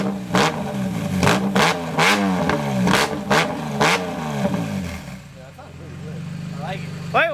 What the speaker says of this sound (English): About to rev it up. Let's see how it sounds.